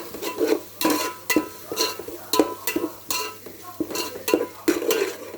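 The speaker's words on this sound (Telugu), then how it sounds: "అల్లం వెల్లుల్లి పేసిన మంచి ఫ్లేవర్ వచ్చేదాకా పచ్చివాసన పోయేంత వరకు వేయించుకోవాలి" Ginger-garlic paste frying in a pan for pulao, with a spoon scraping and stirring in repeated strokes over a low sizzle, close and fairly loud, with no talk.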